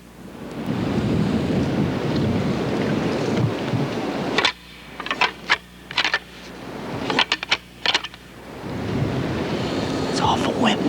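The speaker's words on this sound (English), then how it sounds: "It's awful windy." Strong wind buffets the microphone in rumbling gusts in the woods, easing for a few seconds while clicks and short sounds come through, then roaring back.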